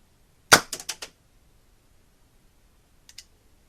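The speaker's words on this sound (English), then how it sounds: "Now to fire, all that needs to be done is to squeeze the trigger." A lighter-based miniature combustion cannon fires an airsoft pellet: one sharp close pop followed by a few quick rattling clicks, then silence and two faint clicks near the end.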